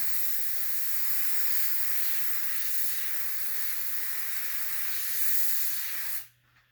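An airbrush sprays paint onto a T-shirt in a steady, close hiss of compressed air that runs for several seconds and then cuts off abruptly.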